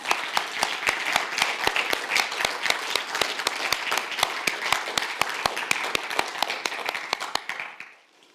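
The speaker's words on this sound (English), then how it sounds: "join me in a big round of applause for all our competitors and finalists" Audience applause for competitors and finalists at a university Three Minute Thesis competition final: steady crowd clapping, with a few crisp, close, regular claps cutting through. It holds for about seven seconds, then quickly fades to silence.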